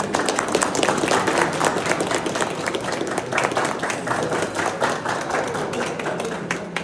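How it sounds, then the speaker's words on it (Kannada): Crowd applause at a political gathering, dense continuous clapping lasting throughout, loud and close with a faint hum of voices underneath. "ಚಪ್ಪಾಳೆ ಹೊಡಿರಿ."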